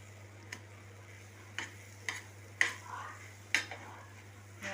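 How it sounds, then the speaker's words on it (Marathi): A spoon stirs milk powder into a thick mango barfi mixture in a pan, giving soft scraping strokes with a few sharper knocks spaced a second or so apart over a low steady hum. "हे आपण व्यवस्थित मिक्स करून घेऊया."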